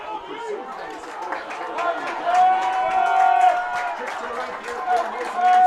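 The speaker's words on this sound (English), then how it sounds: "Hatchet crowd making some noise with the boomsticks" A home crowd at a Tomahawk high school football game rattles boomsticks, a dense mass of cheering and clatter rising and holding, with an announcer talking over it and a sustained whistle-like tone.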